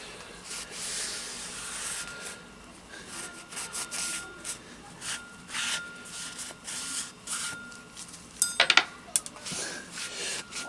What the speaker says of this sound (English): Give all the main surfaces a good cleaning with a bit of brake cleaner.